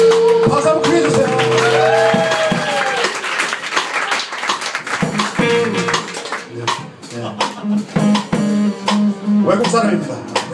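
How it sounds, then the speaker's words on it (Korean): An audience at a live band show in a Seoul club applauds a guitarist during member introductions, with steady clapping under an amplified voice speaking and some ringing instrument tones. "박수 한번 크게 주세요."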